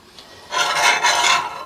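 A countersink bit cuts into a drilled clearance hole for a small 440 screw while building a homemade stained glass stand: a quiet lead-in, then a sustained rasping, grinding scrape that lasts about a second with slight pulses.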